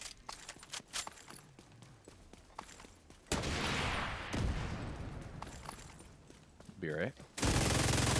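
Rapid automatic gunfire in The Division 2 rattles in dense, loud bursts, with short pauses and sustained stretches of firing, while someone talks briefly over the shooting.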